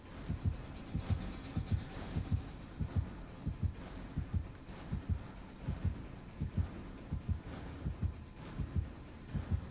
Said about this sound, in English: till the heartbeat goes away.